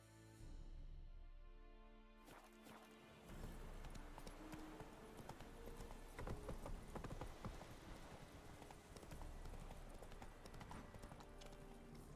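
Horse trotting in the video game The Witcher 3, with quick rhythmic clip-clop hoofbeats running steadily and close, over a background music bed, with a brief neigh possible.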